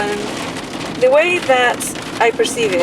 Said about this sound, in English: it started raining really heavily on the track